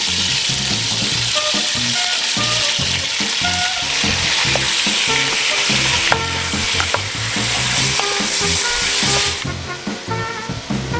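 Lamb frying in hot oil for plov, a loud steady sizzle with the scrape and clatter of a spoon stirring throughout, and no talking.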